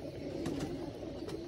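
Pigeons settling on a perch give soft, low cooing with faint rustles, quiet and close against a muted background.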